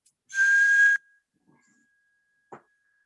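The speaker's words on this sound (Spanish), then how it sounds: "Ahora voy a silbar." A person whistles one steady, clear, high-pitched note at close range for under a second. Afterwards there is near silence, broken by a faint lingering tone and a short soft click.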